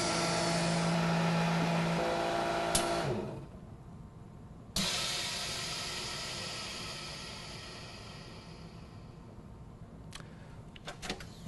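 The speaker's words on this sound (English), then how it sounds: "and now do a full vacuum" A vacuum sealer runs a full vacuum on a bag with a 1-inch slit between seal blade and body: a loud, steady whirring hiss that cuts off, restarts with a click, then tapers, ending in faint clicks.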